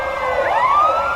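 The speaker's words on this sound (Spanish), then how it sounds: "la llegada de las ambulancias y bomberos se lo impidió" Ambulance and fire engine sirens arrive, a loud wailing tone sweeping upward with overlapping siren lines, close and clear with no talk.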